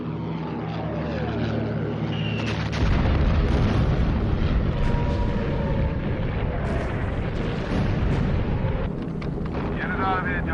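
A bomb dropped from a wartime aircraft detonates in a loud, sustained explosive roar that swells partway through and rumbles on under continuous propeller engine drone, with faint voices in the background.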